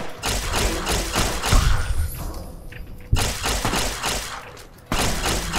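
Gunfire in Fallout New Vegas comes as loud, dense bursts of shots and thuds. It breaks off briefly into quieter game sound, then resumes.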